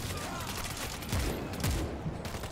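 World War Z gunfire crackles through a steady wash of game noise, with rapid shots and a few heavier bangs standing out partway through.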